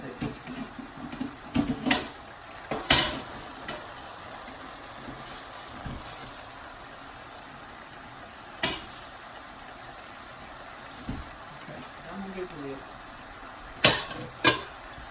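A vegetable stir fry is mixed in a pan, with faint scraping and sizzling and a few sharper clinks of the spatula against the pan, quiet and intermittent.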